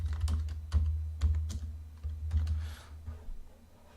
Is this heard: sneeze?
no